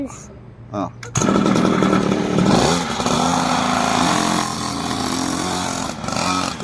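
A dirt bike engine on a city street, catching after a brief sputter and then running loud and close with a raspy, buzzing drone that rises and falls, voices talking over it.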